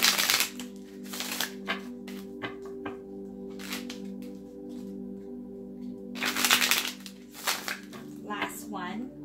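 A deck of tarot cards is shuffled in several quick riffling bursts, close and crisp, with soft handling noises and light background tones between the shuffles.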